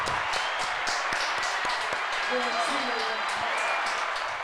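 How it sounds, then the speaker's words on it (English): Applause from an audience at a live mic showcase, steady dense clapping throughout with a few sharper nearby claps and some voices briefly calling out over it. "Clap it up."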